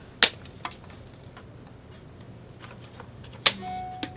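Spring-loaded processor retention clips snapping open on the motherboard of a SonicWall internet security appliance, two sharp close metallic clicks a few seconds apart, with a few faint ticks between them.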